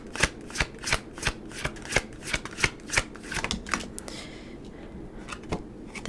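Tarot cards shuffled by hand in quick riffling bursts, a steady run of crisp slaps and flutters that thins into a few scattered card taps toward the end, close and fairly quiet with no talk.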